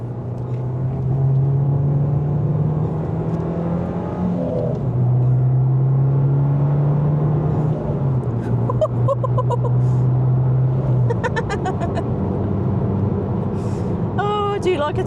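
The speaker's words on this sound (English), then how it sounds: "Oh, I do like a turbo car." A modified 230 bhp Abarth Competizione with a turbo pulls hard in second gear, its engine droning steady and loud from inside the cabin, the pitch rising and stepping through the pull.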